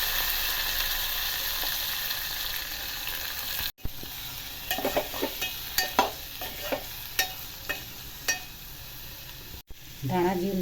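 Chillies, potatoes and onions fry in hot oil tempering with peanuts, bay leaf and asafoetida for seven-grain khichdo, a steady close sizzle broken by several sharp stirring scrapes and clinks.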